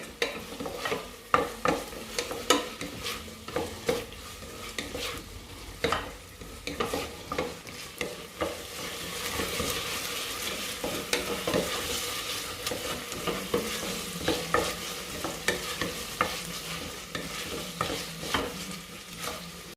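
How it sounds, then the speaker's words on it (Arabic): Tomato sautéing in a pan, a constant soft sizzle with frequent sharp scraping and tapping as it is stirred, busier at first, then settling into a smoother hiss with lighter scrapes. "غادي نضيف مطيشه، غادي نخليها تشحر شويه."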